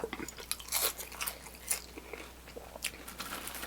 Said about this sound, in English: Let me get these Parmesan truffle fries in real quick though.